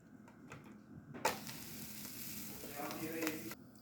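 A spinach paratha sizzles in oil on a hot griddle, a steady close frying crackle that jumps in loudly and holds for a few seconds before cutting off.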